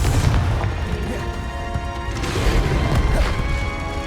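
A Confringo blasting spell in the Hogwarts Legacy video game lands with a loud, heavy smash and boom, followed by crackling rumble and a second impact, amid dense combat noise with no talk.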